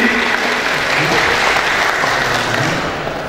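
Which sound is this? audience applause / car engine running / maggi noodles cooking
audience applause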